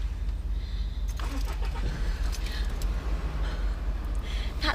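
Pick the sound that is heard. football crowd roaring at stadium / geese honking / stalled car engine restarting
stalled car engine restarting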